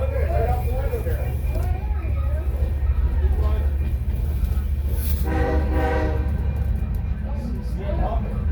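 A Canadian Pacific freight train rolling past on BNSF tracks, a steady low rumble of wheels and cars with a horn-like tone midway, heard from a caboose with people talking over it.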